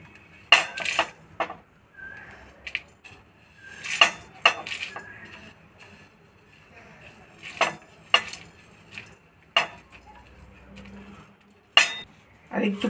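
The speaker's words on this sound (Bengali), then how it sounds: "শুকনো লঙ্কাগুলোকে একটু ড্রাই রোস্ট করে নিচ্ছি।" Dry red chillies and whole spices tossed in a pan, with sharp metal spoon scrapes and clinks against the pan, a light sizzle in between.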